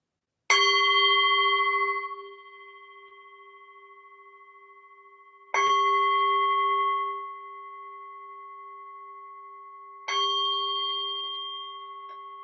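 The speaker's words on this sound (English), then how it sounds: "As you listen to the bell, listen to the fading sound of the bell" A meditation bell is struck three times at even intervals, each clear metallic ring sounding close and then slowly fading away in an otherwise silent room.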